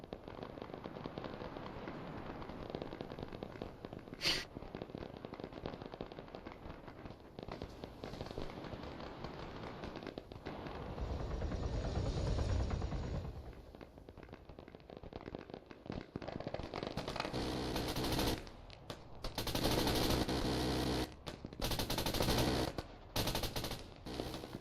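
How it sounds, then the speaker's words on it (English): Sustained automatic gunfire from AI soldiers in Arma 3, rattling bursts heard at a distance and then louder, sharper volleys near the end, with no talk. "they're shooting at something"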